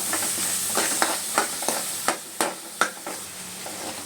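Peas frying with ginger garlic paste in butter: a steady close sizzle with a string of sharp scraping and stirring knocks from a spoon against the pan, no voices.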